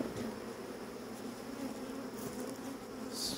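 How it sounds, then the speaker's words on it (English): A steady, close buzz of honeybees at a hive during inspection hums continuously, a dense drone of many bees, with a brief higher whine near the end. "Let's go ahead and smoke the bees."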